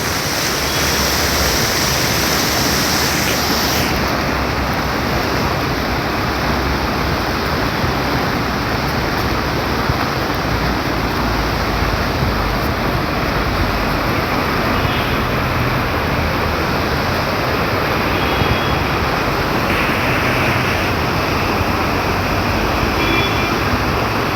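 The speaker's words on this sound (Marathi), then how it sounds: "कालपासून जोरदार कोकणामध्ये पाऊस पडतो एकदम मुसळधार पाऊस पडतो कोकणात" A river swollen by heavy monsoon rain in Dapoli, Konkan rushes in a dense, continuous roar, loud and close, steady throughout with no voices.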